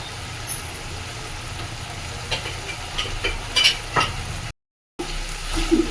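Kashmiri chilli powder spooned into hot oil for a spicy boal fish head dish, frying with a soft steady sizzle while a spoon scrapes and stirs in the pan, a few louder clinks near the end.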